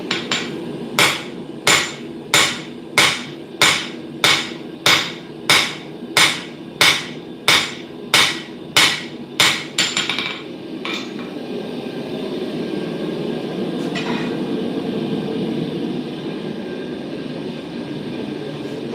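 Hammer strikes on hot metal during blacksmith forging ring out in an even run of about fifteen sharp, loud blows, then stop, leaving a steady low mechanical hum in the workshop.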